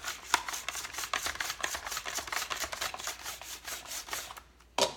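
A handheld slicer cuts potatoes into even slices for a gratin dauphinois, a rapid run of crisp, close clicks and scrapes repeating steadily for several seconds before a brief pause and a final cut.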